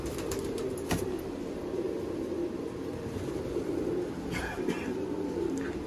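Sialkoti rooftop pigeons coo softly and steadily in low, rolling murmurs, with open outdoor ambience and a few faint clicks around them.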